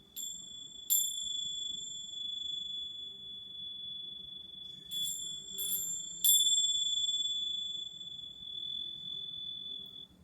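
A bell rings at the close of a vinyasa yoga class, struck a few times with bright metallic strikes, each tone ringing out clear and long before fading slowly in a quiet room.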